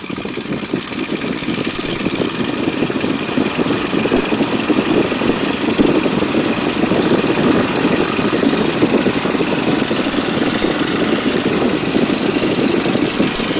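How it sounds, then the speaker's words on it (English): A light aircraft's engine is run up to higher power before takeoff on a crosswind runway, a loud, steady droning roar with a rough pulsing texture that stays constant for over thirteen seconds with no talk over it. "I'm going to check the engine here real quick. We'll run the power on up."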